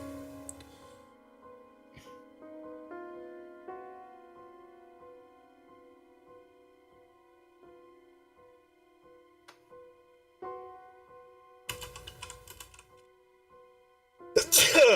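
Two sharp sneezes burst out near the end of a quiet Dungeons & Dragons tabletop session, loud and close, over soft sustained background music with little talk.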